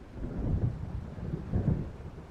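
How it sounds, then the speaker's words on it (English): Low, rolling thunder rumbles from a storm approaching across the water in Alan Wake, two soft swells of distant booming over a faint bed of wind and rain, with no voices. "It seems there's a storm coming."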